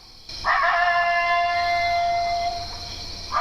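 A single drawn-out recorded coyote howl rises and holds steady for a few seconds, clear and fairly loud, fading out before a brief second cry begins.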